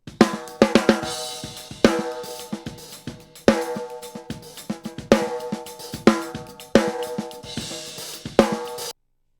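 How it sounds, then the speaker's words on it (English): Dry, punchy snare drum hits played alone in a loose rhythm, each crack ringing briefly with a bright rattle before the next stroke. "I'm going to show you what this snare sounds like with nothing on it"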